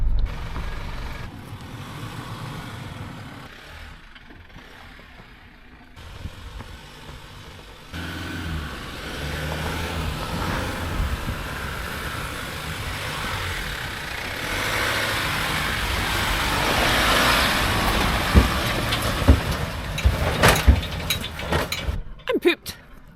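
Several vehicles pass a pulled-over 79 Series LandCruiser with a caravan on a mountain climb in the Victorian High Country, the engine noise building from a low rumble to a louder close pass, with a voice talking over it.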